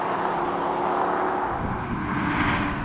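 A BMW M340i drag racing against other cars, a sustained engine roar building and shifting in pitch as the cars accelerate, steady and fairly loud, with no talk.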